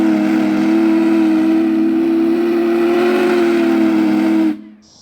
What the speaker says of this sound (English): you're about to hear 4014 blower whistle